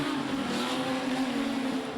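Modified production race cars roar past at Gympie Speedway, a sustained loud engine drone heard from the track during an A-main race.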